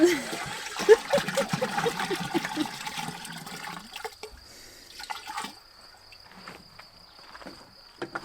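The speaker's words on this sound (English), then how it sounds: "So he's just emptied all of those waters into the water holding tank that we have" Water is emptied into a holding tank at an off-grid tiny home in Portugal, a loud broadband pouring rush for about four seconds that then falls away to quieter trickles and drips, with people talking nearby.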